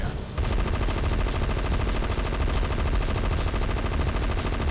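Rapid, dense gunfire from the video game Gun Metal, with shots firing in a continuous loud burst that fills the whole stretch and no pause.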